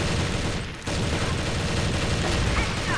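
Dense, continuous automatic gunfire in the CrossFire shooter game, rapid loud bursts that fill the whole stretch apart from one brief dip, with no clear speech.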